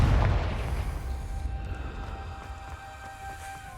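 A Confringo explosive spell goes off in Hogwarts Legacy: a loud booming blast right at the start, then a long rumbling decay with a lingering hum that fades over several seconds.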